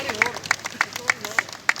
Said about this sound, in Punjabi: ਜੇ ਮੇਰੀ ਕਵਿਤਾ ਤੁਹਾਨੂੰ ਪਸੰਦ ਆ ਜ਼ੋਰਦਾਰ ਤਾੜੀ ਲਗਾ ਦਿਓ